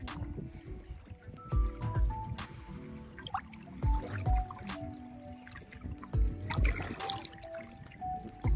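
Slow sloshing and dripping as feet wade through shallow water at the Kurla Devi temple in Konkan, in a rhythmic pattern, with faint voices in the background.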